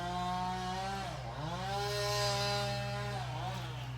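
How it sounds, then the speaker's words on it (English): Outside, fence builders run a small Bobcat loader whose engine drones steadily and loudly, its pitch dipping and climbing as it revs, with no distinct post banging standing out and no talking. "there's a constant drone of bobcats and banging posts in"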